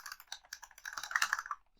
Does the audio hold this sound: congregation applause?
no